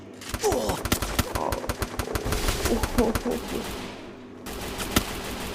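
Free Fire mobile game gunfire, with rapid bursts of automatic shots and single cracks over ambient bird-like cooing, fairly loud and continuous. A brief quiet gap comes before another shot near the end.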